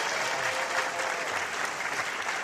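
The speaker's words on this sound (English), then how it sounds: "Let's have a nice round of applause for Peter Clavel." Steady applause from a sizable late-night TV studio audience, dense and continuous throughout, with no voices rising above the clapping.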